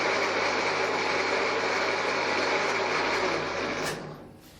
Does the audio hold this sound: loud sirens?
no